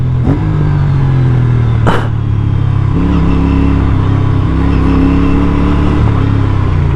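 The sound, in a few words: Aprilia motorcycle passing by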